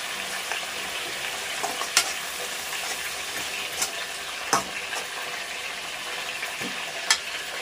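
Onion and tomato paste frying in oil for capsicum chicken curry, a continuous close crackling sizzle with scattered sharp ticks and occasional spoon knocks against the pan, no voices.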